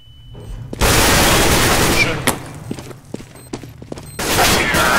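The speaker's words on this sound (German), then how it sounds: "Throwing Flashbang." A flashbang going off in a CS:GO match, a sudden broad burst of noise lasting a couple of seconds, followed by scattered sharp gunshots and a second loud burst near the end, with no talk.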